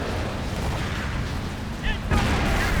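Artillery fire in Company of Heroes, a World War II strategy game, booms through dense battle noise, with a sharp heavy blast near the end over steady rumble.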